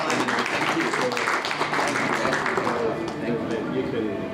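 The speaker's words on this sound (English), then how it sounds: "perhaps a round of applause for all the work that Paul and his team do" An audience gives a warm round of applause for Paul and his team, a dense continuous wash of many hands clapping close by that fades slightly toward the end.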